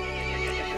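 A horse in the video game Resident Evil Village gives a brief, loud, close neigh, a quavering whinny heard alone.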